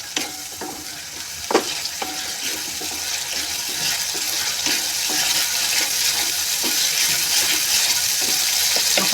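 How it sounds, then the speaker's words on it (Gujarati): A spoon stirs boiled potato into a sizzling pan of green pea sev usal, with steady frying hiss and repeated scraping clicks across the pan, and no talking. "હવે આપણે આમાં બાફેલું બટેકું એડ કરી દઈશું અને એને બરોબર મિક્સ કરી દઈશું અંદર."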